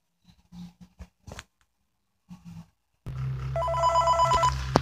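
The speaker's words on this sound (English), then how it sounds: "So I'm not gonna mute the phone call once you hear it." In the Five Nights at Freddy's 3 video game, a telephone starts ringing after a few scattered soft knocks and shuffles, then rings loudly and continuously with a bright, repeating electronic tone.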